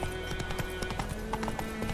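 Hooves of the horse Roach clip-clopping in The Witcher 3, a steady rhythmic trot close by with a brief whinny-like tone, no talk.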